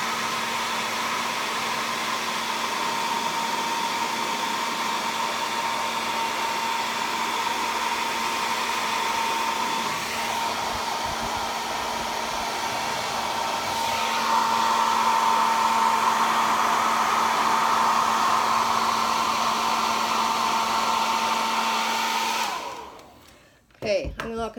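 A hair dryer blows steadily to dry paint on a tiered tray craft, a loud continuous whirring drone that shifts slightly higher partway through, then cuts off abruptly near the end.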